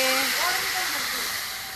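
Water poured into red-roasted semolina for suji halwa in a hot pan, setting off a loud, close burst of steamy sizzling hiss that slowly fades.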